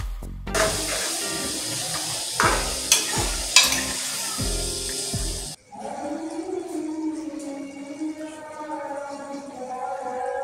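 Tomato slices for keema karahi drop into a hot karahi pan, setting off a burst of loud sizzling with clattering stirs; the frying then settles into a softer, steady sizzle with a faint voice-like hum behind it.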